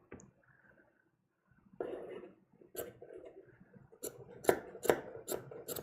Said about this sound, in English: I do want to go ahead and see if I can cut